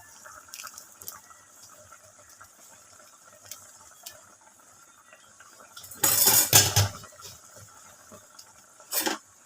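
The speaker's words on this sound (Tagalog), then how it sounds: "halo-haloin natin ng bahagya" Pork adobo made with pata being stirred in a pot, with soft scraping and a sharp burst of clattering utensil against metal, then a later brief clank; quiet talk sits faintly in the background.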